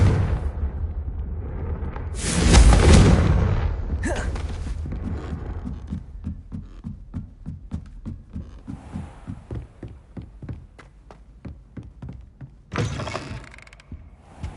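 Confringo fire blast spell cast in Hogwarts Legacy, a loud burst of explosive roar and crackle that fades into rumbling, followed by rapid pulsing thuds and a second blast near the end.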